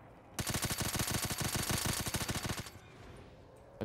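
A rapid burst of automatic gunfire from a weapon in Call of Duty: Black Ops 3 Zombies, loud and close, lasting about two seconds before cutting off.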